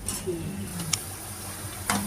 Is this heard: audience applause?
no